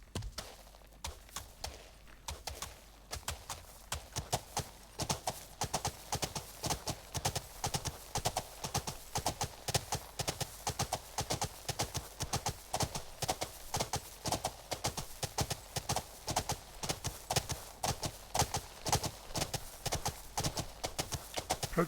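A ridden horse clip-clops steadily in the video game Life is Feudal, its hooves striking in a quick regular rhythm for the whole stretch, close and even, with faint talk now and then.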